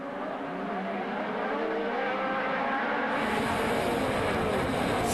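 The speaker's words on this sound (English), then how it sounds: "there's a lot of good area to slide and drift the truck right now" Pro Light two-wheel-drive, four-cylinder mid-sized off-road race trucks at a Las Vegas off-road nationals round, engines roaring and revving steadily at high load, loud and continuous with a constant drone throughout.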